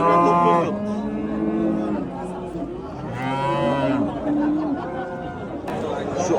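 Several cows moo loudly and repeatedly at Andijan's Khojaobod cattle market, long drawn-out lowing calls rising over the crowd's steady chatter and buyers talking nearby.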